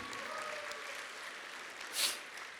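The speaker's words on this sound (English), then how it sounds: "Give him a big round of applause." An audience claps at a movie screening in San Francisco. The applause is steady and somewhat distant, swells briefly near the end, and then settles.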